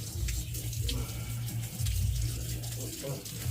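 Tap water runs steadily while Mocha the dog is bathed, a continuous splashing stream close by with a low hum underneath.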